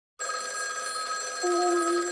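A telephone rings steadily in the Schrodingers Call video game, a bright continuous electronic bell tone that starts abruptly and holds loud and alone for about two seconds.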